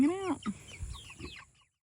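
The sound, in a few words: broiler meat chickens clucking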